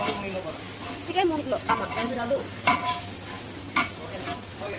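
Ginger garlic paste sizzles and fries in a large pan of golden-brown onions for a big batch of chicken dum biryani, stirred with steady scraping as a voice talks over the cooking.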